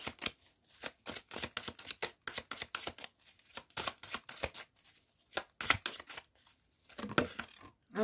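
Tarot cards are shuffled and handled close up in quick bursts of riffling and sliding, soft papery flicks and slaps with brief gaps between. No one speaks.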